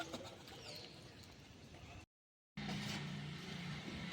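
Pigeons being dewormed and released coo in a low, steady murmur through a busy outdoor background, with a brief gap midway and a clearer sustained coo near the end.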